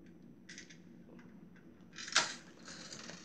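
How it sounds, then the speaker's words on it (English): A Lego castle catapult flings small brown studs, giving a few faint plastic clicks and a sharper snapping clatter near the end, close and quiet. "this is a catapult, which launches like these"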